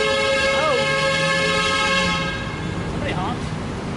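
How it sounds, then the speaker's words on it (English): A car horn blares in a long sustained honk, then quick short toots follow amid traffic noise nearby, in Kuala Lumpur. "Somebody honked."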